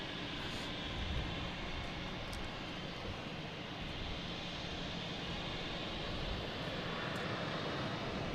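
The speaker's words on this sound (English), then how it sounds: "we also have a private jet taking off" A private jet takes off at Boston Logan Airport at night, a steady broad roar of engine noise heard from a distance, even in level throughout without breaks.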